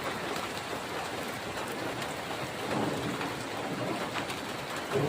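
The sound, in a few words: rain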